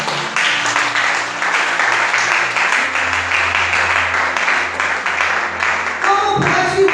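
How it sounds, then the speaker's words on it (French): A church congregation applauds and cheers loudly during a service, sustained dense clapping with a swell of voices that continues for several seconds before thinning out near the end. "Acclame très fort."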